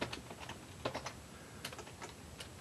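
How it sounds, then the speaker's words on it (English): Keystrokes on a computer keyboard as a name is typed into a sign-in form, a few quick taps in short bursts, close and fairly quiet, with no talking. "so I got to type in my first name"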